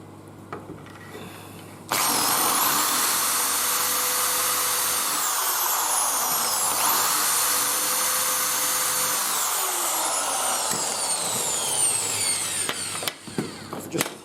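Power drill driving screws into a plywood baseboard for a model railway layout, a loud continuous whine with shifting pitch as the screws bite, ending with brief clicks and knocks.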